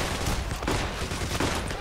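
Dense gunfire from the heist shooter video game Payday: The Heist, a continuous fusillade of overlapping shots that keeps up steadily and loudly across the whole moment with no talking.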